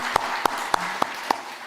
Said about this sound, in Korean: 우리 박수 한번 우리 격려의 박수 한번 보내겠습니다